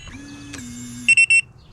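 Keyless entry door lock on a 2021 Aspen Trail 1950BH travel trailer gives three short, loud electronic confirmation beeps in quick succession, after a steady tone and a faint click.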